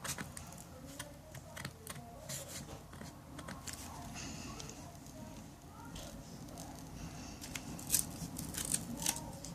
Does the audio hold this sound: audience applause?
no